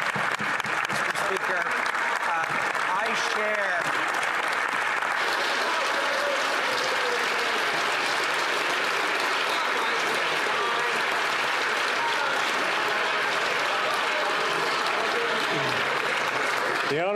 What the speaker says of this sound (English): I've never had that much applause, Mr. Speaker, in the House before.